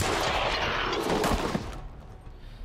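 Burst of gunfire from the turn-based squad game XCOM 2: War of the Chosen, a dense continuous barrage loud and up front for most of the clip before cutting off and tailing into quiet.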